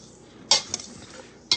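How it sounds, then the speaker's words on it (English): A utensil whisks ingredients together in a mixing bowl for a chicken and dressing dish. Two or three sharp clinks against the bowl sound close and brief, with a faint scrape between them. "I'm just going to whisk that together"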